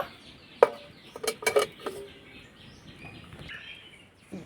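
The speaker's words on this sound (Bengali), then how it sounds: "এখন আমি থালাটা বসিয়ে দেব" A metal plate of cake batter set onto a stand inside a heated kadai, a few sharp close metallic clanks and scrapes against quiet background with faint bird chirps.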